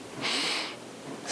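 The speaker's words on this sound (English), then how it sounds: "We'll take 3 rounds of a breath that's called the physiological sigh." A physiological sigh taken as two quick sips of breath through the nose, close and soft, the second brief inhale topping off the first.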